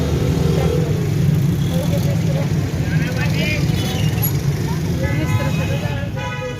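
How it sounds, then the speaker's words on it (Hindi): Busy road traffic with many vehicles gives a loud, continuous rumble of passing cars and engines, with faint horn toots and people talking nearby. "लोगों का रश नहीं, गाड़ियों का रश है।"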